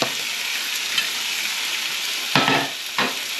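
Chicken, egg and cheese wraps sizzle loudly in a hot frying pan, a constant close crackling hiss broken by a couple of brief thuds as tongs move them, no voices.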